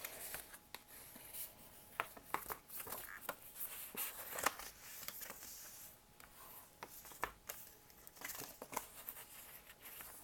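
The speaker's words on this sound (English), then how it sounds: "I'm going to use my bone folder to put these folds in today" A bone folder rubs and creases folds into paper for candy boxes and bags, giving soft scraping strokes and papery crinkles in a quiet, close, irregular rhythm.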